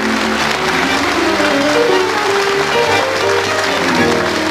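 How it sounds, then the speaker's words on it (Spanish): Audience at a tango show applauds, a dense, steady wash of clapping throughout, with voices mixed in. "Aplaudan todo lo que quieran."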